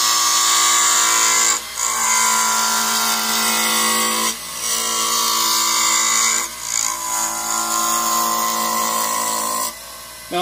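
A wood lathe spins a label cast blank while a scraper cuts it, a loud steady high whine with tonal hum broken by three brief dips where the tool lifts off.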